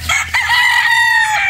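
A six-month-old Sweater gamefowl rooster with yellow legs and a straight comb crows once, close and loud, a drawn-out harsh call that holds its pitch to the end.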